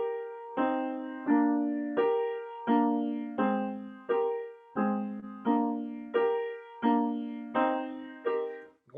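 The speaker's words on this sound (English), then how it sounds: "It sounds like this, and we hear it on the horns." Horns play the broad swan theme from Sibelius's Fifth Symphony, a slow series of sustained, swelling chords, each attack followed by a gradual fade in a regular majestic pulse.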